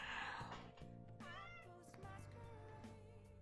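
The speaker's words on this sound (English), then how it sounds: "you decided to pipe up with your meows?" A pet cat meows several times in a row with rising and falling calls, close to the microphone over low game background music.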